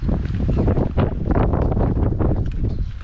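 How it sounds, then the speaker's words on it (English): Strong wind buffeting the microphone in continuous low roaring gusts, with a faint rush of water beneath and no talking. "Very windy."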